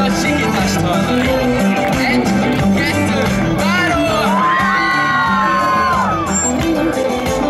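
A large audience at a summer talent show screams and whoops together, a loud, dense roar of shrieking voices with rising and falling yells sustained throughout.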